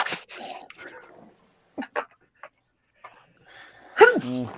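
A short, sharp sneeze bursts out near the end after scattered quiet voices and small noises, close and loud.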